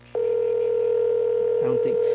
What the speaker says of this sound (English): We're calling this man right now.